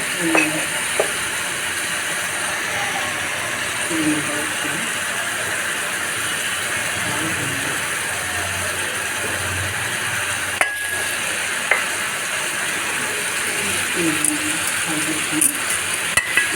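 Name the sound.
tempering spices sizzling in pan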